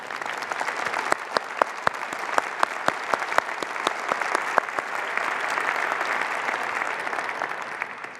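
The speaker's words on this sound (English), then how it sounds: "Dr., please stand up and take our applause." A keynote audience applauds a health-systems speaker at a London conference, a broad steady wash of many hands with sharp individual claps standing out, sustained and fairly close throughout without pause.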